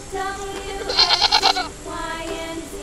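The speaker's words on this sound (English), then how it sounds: "G for goat." A goat bleats loudly and close, a wavering, quavering cry that swells in the middle and trails off in a second, weaker bleat.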